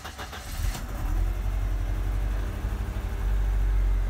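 A 1991 Mercedes-Benz 190E 2.3 cranks briefly and then catches, settling into a steady, close rumbling idle with a slightly uneven pulse.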